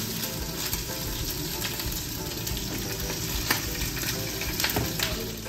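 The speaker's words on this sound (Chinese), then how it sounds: "所以只能够一路煎一路将啲鱼抌落煲汤啦。" Fish fry in a small pan in a rental kitchen in Okinawa, giving off a dense, continuous sizzle with scattered pops and crackles that hold close and steady throughout.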